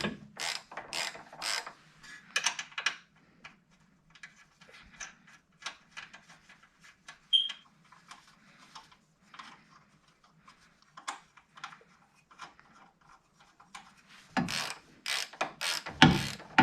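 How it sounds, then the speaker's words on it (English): A ratchet clicks in quick bursts while tightening six 13mm nuts on bumper reinforcements of a 2009 Mini Cooper, close and crisp with short pauses between runs and louder clusters at the end. "grab a 13mm and screw in all the 6 13mm nuts"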